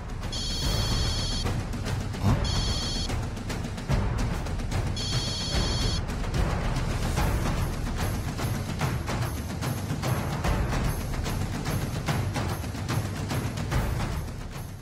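A telephone rings in a home scene of a Tamil TV drama, three clear electronic bursts in the first half over a busy background of music and ambience, which carries on steadily after the ringing stops.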